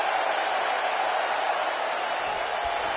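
Crowd cheering in a wrestling video game arena, a steady wash of distant crowd noise and applause holding at an even level throughout.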